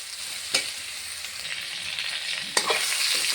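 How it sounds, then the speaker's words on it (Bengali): Potato pieces fry in hot oil with a light dusting of turmeric, a steady close sizzle with two brief sharper spikes of stirring or spatter. "ভালো করে লাল লাল করে আলুটা ভেজে নেব"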